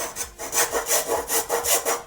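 A square file works back and forth at a rapid, steady rhythm, deburring the drilled holes in a clock circuit board, producing close, light rasping strokes about four per second.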